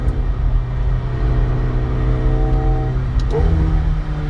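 2018 McLaren 720S engine accelerating: a continuous loud, deep rumble with rising engine tones, heard from inside the car and without voices.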